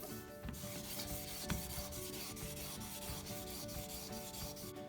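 Steady, continuous rubbing and scraping of 1200-grit sandpaper on a glass stovetop during restoration, a close, dense abrasive hiss with a small bump partway through and no talking.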